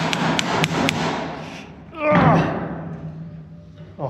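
A hammer strikes dump bed fittings four times in a quick, even series of sharp metallic blows, close by, while people talk in the background.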